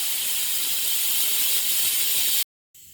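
A pressure cooker on high flame, cooking vangi pulao, lets out a steady loud steam hiss that cuts off abruptly near the end and then resumes faintly after a brief silence.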